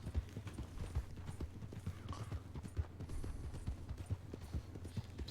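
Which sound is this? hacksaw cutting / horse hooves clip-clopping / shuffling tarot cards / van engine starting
horse hooves clip-clopping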